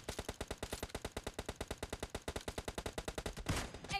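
Rapid automatic gunfire in the mobile shooter PUBG Mobile Lite during a team deathmatch, a steady stream of about thirty evenly spaced shots at close range, ending in a louder noisy burst.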